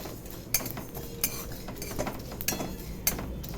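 Spices are stirred in a hot kadai after the gas has been switched off. A metal spoon scrapes and clinks against the pan at a steady, unhurried rhythm, close and fairly quiet.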